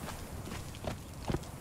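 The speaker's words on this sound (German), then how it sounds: "Das ist ein Apfelschimmel." A dapple grey horse in Conan Exiles clip-clops softly over a short stretch, a few faint, uneven hoofbeats heard alone without talk.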